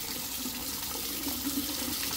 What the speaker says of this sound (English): Absolutely freezing water coming out of there.